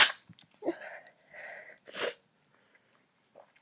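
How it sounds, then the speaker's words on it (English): A girl's sneeze, one sharp explosive burst at the start and another at about two seconds, with quiet sniffs and faint breaths between, close and alone. "I have to sneeze."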